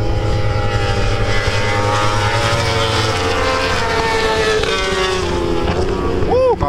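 Kawasaki WSBK superbike racing past at the Mandalika circuit, a loud continuous engine roar that holds steady, then shifts pitch as the bike passes close by.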